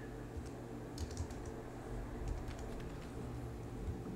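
Quiet typing on a computer keyboard comes as a few soft, scattered key clicks over a steady low room hum, faint and fairly close.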